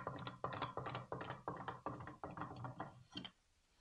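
Wooden hopping bunny toy with sandpaper on its front moving along, producing a steady series of about ten rhythmic clacking, ratcheting hops close by that stop abruptly, followed by near silence.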